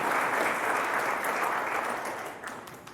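Audience applause at a service dog graduation ceremony in Iowa, a dense burst of clapping that starts loud and gradually tapers off over three seconds.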